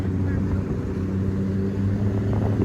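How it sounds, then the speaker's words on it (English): Jet skis run a buoy course on open water near a sandbar, giving a steady, droning engine roar that holds without a break. The engines sound moderately close and continuous throughout. "More of the jet skis are on the sandbar."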